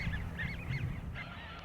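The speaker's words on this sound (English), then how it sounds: "the unmistakable honking of snow geese" A flock of snow geese honks from a distance over the farm fields and estuary marshes of a river delta, a steady babble of overlapping calls above a constant low rumble.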